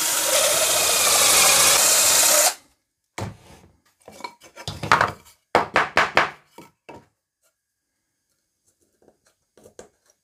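Power drill bores a dowel hole in wood guided by a doweling jig: a loud steady whine for about two and a half seconds, then stops, followed by scattered clicks and knocks of handling the wood.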